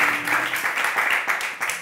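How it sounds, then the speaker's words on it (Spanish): Studio audience applause fills the whole stretch with dense, fairly loud clapping in uneven surges, with faint speech underneath. "Un aplauso para fake talk."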